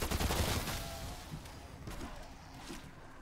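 Rapid gunfire bursts from weapons in Call of Duty Zombies on the Firebase Z map, dense and loud at first, then continuing as scattered shots under a busy game soundscape.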